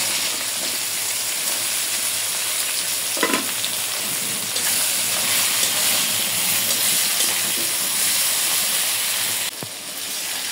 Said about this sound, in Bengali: এই তেলের ভিতরেই আমি ভেন্ডিগুলো ভাজে নেব।